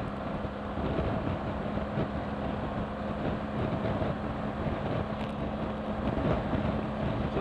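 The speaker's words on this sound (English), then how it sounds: "We're getting a bit of buffeting." Steady wind buffeting roars around a rider on a 2017 BMW R1200GS motorcycle, a dense, continuous rumble with a faint engine drone underneath, loud and unbroken throughout with no talking.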